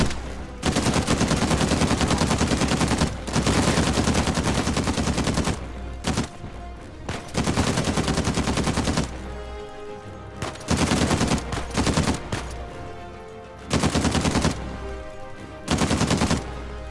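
Bursts of automatic gunfire from a weapon in the video game Uncharted 4, loud and close, fired in several sustained volleys separated by short pauses, with no voices over it.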